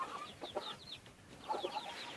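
Chickens cluck in a crowded pen, a few soft, faint bursts of clucking and chirping rising and falling across a short stretch with no talk.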